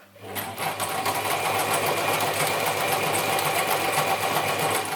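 A Gritzner 1002 or Pfaff 307 sewing machine stitches a wide zigzag, running as a steady loud mechanical whir with a fast rhythmic clatter of the needle, continuous from start to finish.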